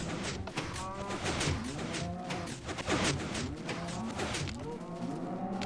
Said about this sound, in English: Hopefully you can still hear me over the sound of the cows.